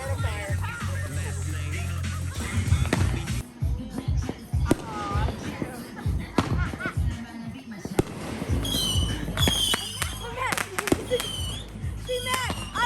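Fourth of July fireworks going off close by at a family gathering, with loud booms and crackling bursts scattered throughout while excited voices talk and shout over them.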